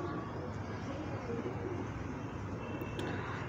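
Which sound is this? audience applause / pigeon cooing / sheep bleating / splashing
pigeon cooing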